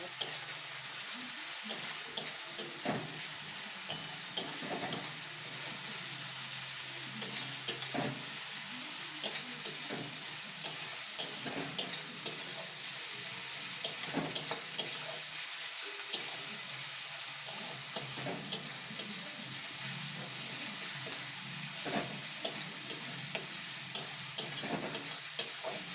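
Garlic paste frying in oil for a chicken curry gives a continuous close sizzle, with scattered scrapes and clicks of stirring throughout and no talking.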